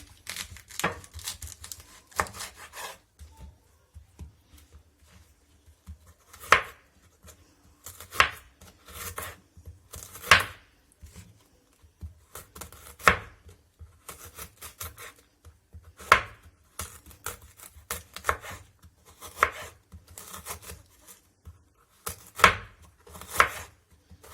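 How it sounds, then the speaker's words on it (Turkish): A knife chops kale on a board with irregular crisp strokes and some rustling and crunching, close up, with no talking. "Şimdi de kara lahanamızı doğrayalım."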